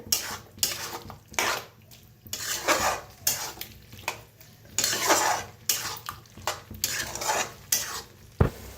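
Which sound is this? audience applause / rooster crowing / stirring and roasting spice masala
stirring and roasting spice masala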